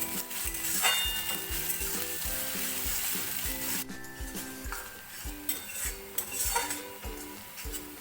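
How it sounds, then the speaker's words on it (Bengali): Finely chopped onions hitting hot refined oil already seasoned with crushed cinnamon, cloves and cardamom, sizzling steadily while a spoon scrapes and clinks against the pan in repeated strokes, with no voices. "দিয়ে দিচ্ছি মিহি করে কুচনো পেঁয়াজ।"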